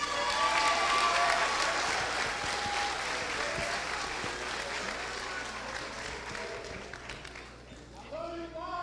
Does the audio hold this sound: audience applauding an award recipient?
yes